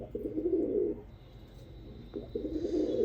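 Two soft, throaty pigeon coos sound close by in a loft, separated by a brief quiet gap over low background hum.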